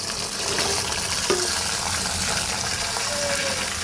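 Bottle gourd and green peas tipped into hot oil in a pan give off a loud, steady sizzling hiss that holds for several seconds, with no talking over it.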